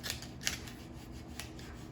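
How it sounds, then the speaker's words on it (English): Asparagus stalks being trimmed with a knife, a few crisp snipping cuts close up against quiet room noise. "just cut the rest of the asparagus in the same place"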